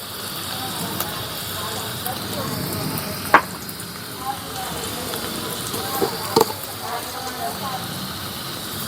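Onions sauté in a pan for a Tamil fish curry, producing a continuous even sizzle with occasional sharp pops and stirring knocks.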